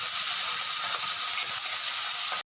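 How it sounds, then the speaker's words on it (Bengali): Fish, a Bengali bele fish, sizzles in hot oil in a pan, a steady, close, bright hiss and crackle that continues unbroken before stopping abruptly. "মাছটা ভাজছি, একটা একটা করে মাছ তেলের মধ্যে দিচ্ছি।"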